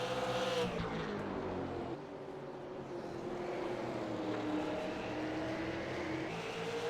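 Super Late Model stock cars racing at South Boston Speedway, a loud roaring pack of V8 engines with a pitch sweep as a car passes close early, then a sustained drone of engines circling.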